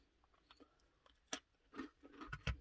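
Someone chews crisp military ration crackers close to the mic, making soft irregular crunches that build into louder bites near the end. The room is otherwise quiet.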